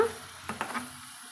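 Onions sautéing in oil in a pan give a faint, steady sizzle, with a few quick stirring scrapes partway through, close and quiet with no talk.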